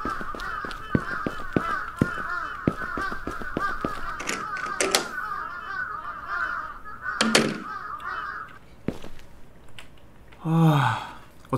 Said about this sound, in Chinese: 哇，很多乌鸦在外面飞耶！